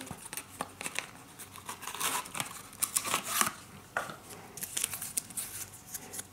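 Packaging around a phone accessory being opened up close, with bursts of crinkling and tearing plastic and paper coming in irregular rustles and sharp rips, no voice over it.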